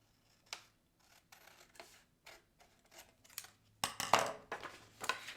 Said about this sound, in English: I'm just going to use my scissors to cut.